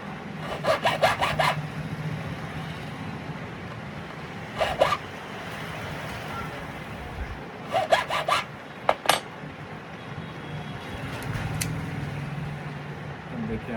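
A freshly cut key being filed down by hand, with short bursts of quick scraping strokes repeated several times against a steady background hum.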